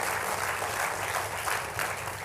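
A church congregation applauding, a dense, even wash of many hands clapping together, loud and sustained throughout.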